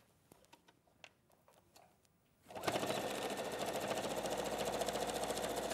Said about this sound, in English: We're going to sew the shoulder line only.